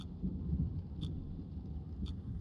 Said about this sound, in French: il y a l'orage et tout, hein.